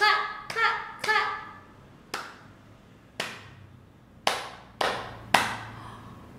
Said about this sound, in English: lift up your right hand and your left hand and clap, clap, clap, clap, clap